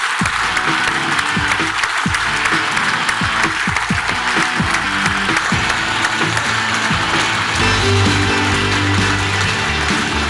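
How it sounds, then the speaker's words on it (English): Large crowd applauding at a Brexit Party rally in Huddersfield, loud, continuous clapping mixed with cheers that fills the hall without a break. "Please give a huge round of applause."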